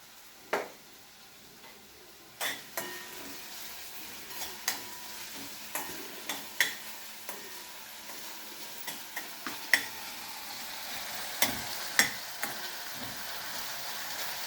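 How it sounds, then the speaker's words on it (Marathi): Chopped onion softening in a hot pan for a Goan Saraswat pomfret dish, with a low steady sizzle under repeated sharp ticks of a spatula stirring against the pan, no talking. "तो शिजू दे कांदा आता चांगला."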